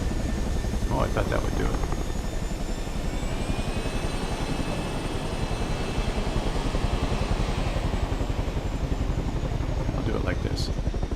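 A simulated helicopter in Microsoft Flight Simulator roars with a loud, steady rotor chop and engine drone under high torque, while someone talks over it briefly.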